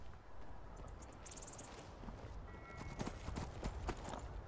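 Rhythmic horse hoofbeats in the video game Skyrim clip-clop at a steady trot, with a high chirping insect-like background sound and light ambient noise.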